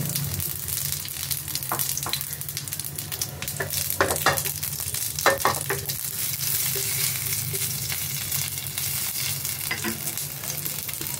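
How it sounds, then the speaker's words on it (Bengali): Dried red chili, a bay leaf and radhuni seeds temper in hot oil with a steady, close sizzle, broken by light scraping and stirring sounds. "ফোড়নে দেব হচ্ছে আমি একটা শুকনো লঙ্কা দেব, একটা তেজপাতা দেব, আর কিছুটা রাঁধুনি দেব।"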